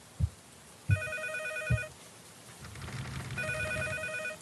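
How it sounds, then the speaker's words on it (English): Two bursts of a telephone ringing inside the horror video game P.T., each a bright electronic trill with low thuds between, set against an eerie low drone and no voices. "Oh, phone."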